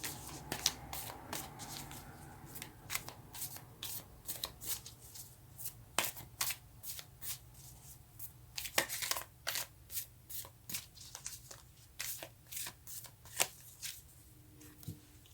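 Tarot cards being shuffled by hand in a quiet room, a steady run of crisp riffling and slapping bursts of varying loudness for about fifteen seconds, close and alone with no talking.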